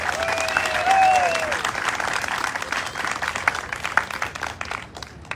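Audience applause in an outdoor community band concert setting in Wildwood, New Jersey, for a shirt designer; dense, steady clapping fills the clip with a couple of whistles early on, fading slightly toward the end.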